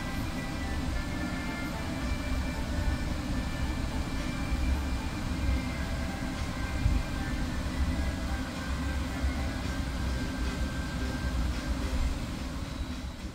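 A KA Jayabaya stainless-steel passenger train rolling into Jatinegara station on track 7, a steady, close, continuous rumble of wheels and carriages with a faint rattling undertone throughout.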